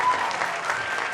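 Brief burst of audience applause at a live stage show, a dense steady patter of many hands at moderate volume.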